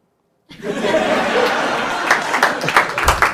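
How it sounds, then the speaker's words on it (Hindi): After a moment of silence, a comedy-show audience breaks into clapping mixed with laughter, a busy, fairly loud wash of hands and chuckles that swells and pulses for a few seconds. "और तू ताली मार रहा है।"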